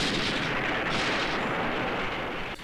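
An explosion from the film Godzilla vs Mechagodzilla, a loud, sustained rumbling blast with a deep roar that rolls on for a few seconds before dropping off.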